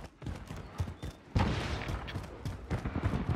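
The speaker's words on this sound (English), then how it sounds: "Someone shooting from that building?" Gunfire from a building in a first-person shooter video game, a dense burst of booming shots and rattling fire, loud and chaotic, with a heavier barrage kicking in partway through.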